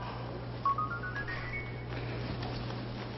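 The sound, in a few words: phone ringing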